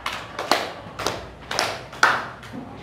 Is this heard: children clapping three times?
yes